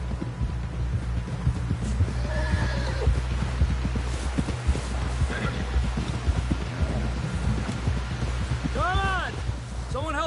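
Horse hooves pound at a steady gallop in Red Dead Redemption 2, with a clear neigh near the end, all under continuous game ambience and background voices.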